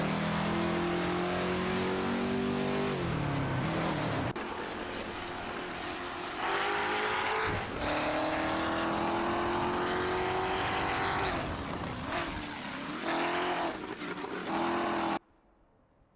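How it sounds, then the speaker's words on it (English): Race car engines rev and roar in an AI racing game, loud and continuous with rising and falling pitch sweeps as cars accelerate and pass, cutting off abruptly near the end. "Let's rev up those engines and enjoy the AI race together."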